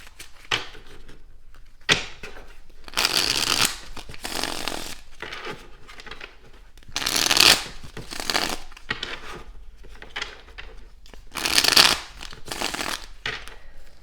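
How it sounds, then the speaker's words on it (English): Tarot clarifier deck being shuffled by hand: repeated bursts of riffling, flapping card noise come in uneven clusters over about fourteen seconds, close and fairly quiet, with no talking. "let me just shuffle the clarifier deck as well."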